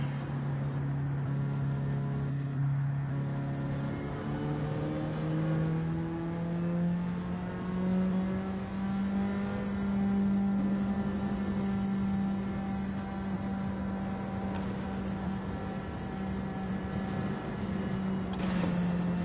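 A race car engine in Gran Turismo 7 at Daytona holds a steady, droning whine that slowly climbs in pitch as the revs build, heard alone.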